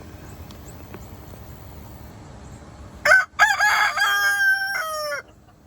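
A rooster crows loudly once, a long drawn-out call after a quiet stretch of faint background noise.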